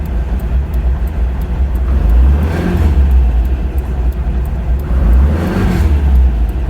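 A Porsche 914 with a 2270 engine and MSD ignition revs up loudly at close range, a rough mid-pitched roar that rises and falls in two swells over a constant idle, with no talking.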